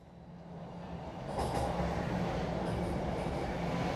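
Subway train running, its low rumble and rail noise swelling louder partway through, then holding at a steady roar.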